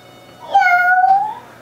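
A single meow, a voice imitating a cat, rising then easing down, clear against a quiet background.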